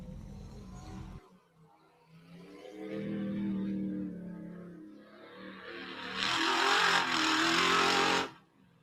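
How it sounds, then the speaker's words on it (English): A UTV race car misfires at a wet, hot race event, its engine note uneven and not running on all cylinders, rising into a loud rough rev before cutting off abruptly. "Doesn't sound like it's running on all cylinders."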